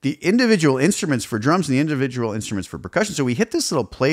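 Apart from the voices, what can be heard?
No distinct noise like a dog, phone or traffic.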